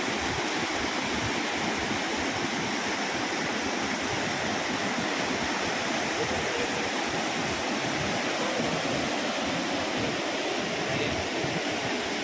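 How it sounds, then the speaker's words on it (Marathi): Water gushes steadily over the spillway of the overflowing Terna dam, a loud continuous roar that never lets up. "हे धबधबून पाणी खाली ओसंडून वाहत आहे"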